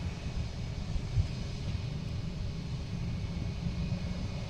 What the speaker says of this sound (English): We have JetBlue coming in from LAX. A321, flight 988.